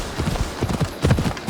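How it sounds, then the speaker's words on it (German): Ariel, a brown horse, walks with steady clip-clopping hooves, a few close, distinct hoof strikes in a short burst with quiet background. "das ist jetzt mein Pferd, das heißt Ariel"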